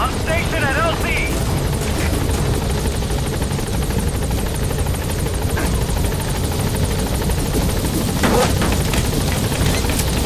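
The Pequod helicopter from Metal Gear Solid V arrives at a landing zone, a loud, continuous, close rotor thrum holding steady throughout, with radio-style voices and brief chirps over it.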